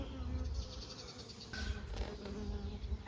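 Bees buzz steadily and softly as they gather nectar from flowers in a home compound, a continuous faint hum with a few louder passes near the listener.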